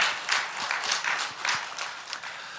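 A church congregation claps together in a brief, steady burst of applause, moderately loud throughout.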